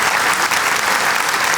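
Studio audience applause, a brief, loud burst of many hands clapping together, dense and steady throughout.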